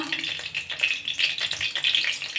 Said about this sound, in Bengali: ফোড়ন দিয়ে দিচ্ছি পাঁচ ফোড়ন গরম মশলা